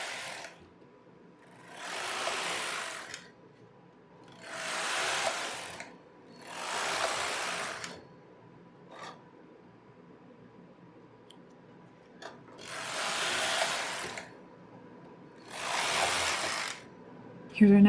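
A knitting machine works rows of circular waste yarn, its carriage making repeated mechanical whooshing and clattering passes about every two seconds, moderately loud, with quiet gaps between passes.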